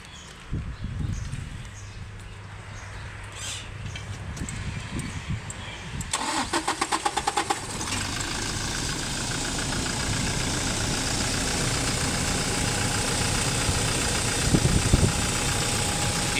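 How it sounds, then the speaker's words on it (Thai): A 2016 Toyota car engine that had been stalling cranks with a rapid starter chatter, catches and settles into a steady idle, with a brief rev near the end; close by, with occasional speech in the background. "เดี๋ยวผมไปสตาร์ทนะครับ ดูนี่ครับ มันจะติดหรือเปล่า"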